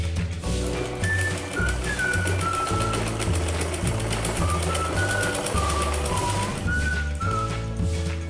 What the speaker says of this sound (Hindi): इस पे सिलाई लगाकर पाइपिंग बनाएंगे।